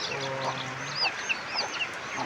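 Chickens clucking and chirping close by, several short calls scattered over a steady outdoor hiss, with no talking.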